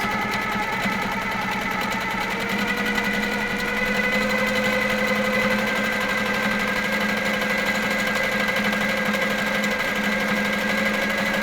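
A sewing machine runs continuously while free-motion microquilting, a steady fast mechanical whir with rhythmic needle clatter and a faint motor hum, close and unbroken throughout.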